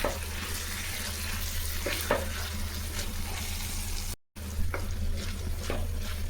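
Handful of coriander leaves sautéing in a pan for chutney, a dense continuous sizzle with occasional stirring scrapes, close up, briefly cut out midway, no talk.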